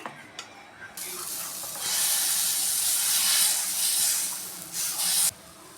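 Millet flour dosa batter, made from kambu and ragi, hitting a hot pan and sizzling with a loud, steady hiss that builds and holds for several seconds before cutting off abruptly, heard up close.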